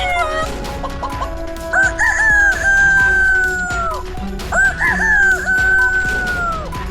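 Two long rooster crows ring out one after another, loud and close, with hens clucking and other birds chattering steadily underneath.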